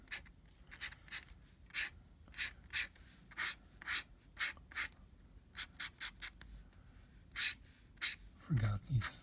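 A pencil scratches across paper while a knight in armor is drawn, in a series of quick, rhythmic strokes, some short and some longer, close and soft in a quiet room.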